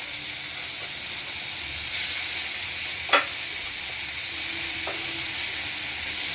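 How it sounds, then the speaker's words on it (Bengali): Fish pieces go into a pan of lightly fried onion and garlic, setting off a loud, sustained sizzle with occasional stirring scrapes and one sharp clack of utensil on pan. "এরকম অবস্থাতেই এখন মাছটা দিই।"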